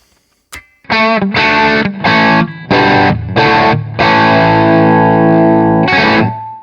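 Heavily distorted electric guitar through the vintage channel of a Hughes & Kettner Ampman Classic amp plays loud, chopped chords in short bursts, then a sustained ringing chord, with a crunchy high-gain tone.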